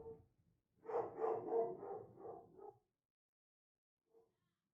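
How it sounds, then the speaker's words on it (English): A pet dog barks in a rapid run of about half a dozen close, loud barks indoors, then falls silent apart from one faint short yip near the end. "What's up with my dog?"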